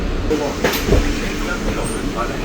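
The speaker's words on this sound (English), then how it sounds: "Welcome aboard the Walt Disney World monorail to Epcot." Walt Disney World monorail heading to Epcot, a loud steady rumble of the moving train with a few rattles and clicks inside the cabin.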